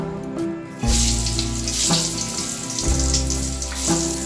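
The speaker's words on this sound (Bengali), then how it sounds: "আর এবারে ভাজবো আমি আলু, নুন হলুদ মাখানো হয়ে গেছে। চলো ভেজে নিই।" Potato pieces coated in salt and turmeric fry in a generous amount of oil, sizzling loudly and continuously at close range after a quieter start, with no voices over it.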